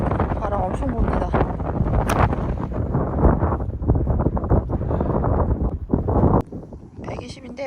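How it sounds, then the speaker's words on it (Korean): A strong headwind buffets the microphone at Le Golf National, the Paris 2024 Olympic golf course: loud, gusty rumbling and roaring, with people talking underneath, then a sudden drop to a quieter breeze near the end. "맞바람이 너무 세요"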